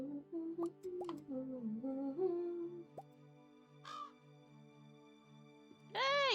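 Cartoonish crows from the Stardew Valley farming game let out a few short caws, one near 4 s and a louder burst at the very end, over steady looping game music with small interface tones.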